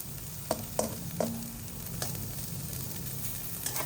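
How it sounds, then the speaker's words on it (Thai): Food sizzles in a hot pan with a few sharp scraping clinks of a utensil stirring, a steady crackle underneath, while cooking a Thai fish and coconut cream relish. "ผัดให้หอม คนให้ทั่ว"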